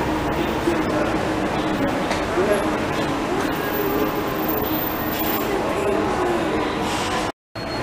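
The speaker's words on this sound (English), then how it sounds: "We love a monorail." A monorail train at Walt Disney World rumbles steadily with a broadband rolling hum, and people chatter nearby throughout; the sound cuts out briefly near the end.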